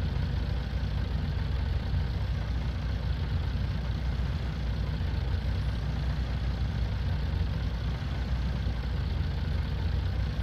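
A tractor engine idles steadily in Farming Simulator, a continuous low, even rumble that holds near and unchanging throughout with no voices over it.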